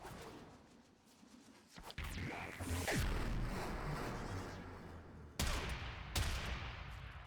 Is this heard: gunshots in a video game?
yes